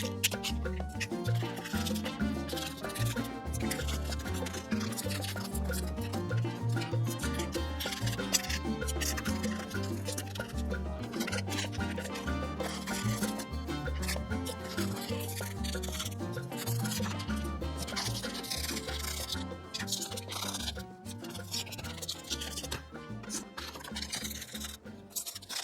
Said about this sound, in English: I'll just be brushing one side at a time